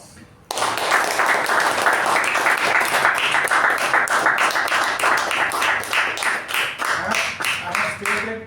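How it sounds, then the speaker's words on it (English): Audience applause at a meeting, a dense burst of many hands clapping that starts abruptly and holds loud and steady, thinning slightly toward the end, with faint voices underneath. "let's give her a special round of applause"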